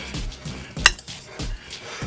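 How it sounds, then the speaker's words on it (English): A spoon stirring oyster dressing in a pot, giving a few soft scraping strokes at a steady rhythm with one sharp metallic clink partway through, close and fairly quiet. "Gonna take a spoon and stir that up a little bit."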